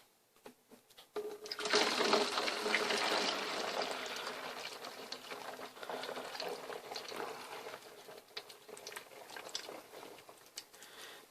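Homemade laundry detergent glugs and splashes as it is poured through a funnel into a gallon container, starting suddenly then settling into a steady, close gurgle that slowly thins out.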